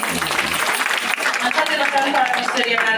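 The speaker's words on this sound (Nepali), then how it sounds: "हामी सबैको पवित्र हातद्वारा जोरदार ताली" Worshippers at a church ladies' fellowship gathering clap together in a loud, dense burst of applause that continues throughout, with some voices mixed in beneath.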